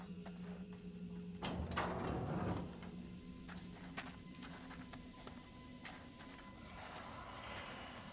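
A door creaks and slides open in the horror video game Little Hope, a loud scraping burst of about a second over a steady low ambient hum, followed by faint mechanical clicks.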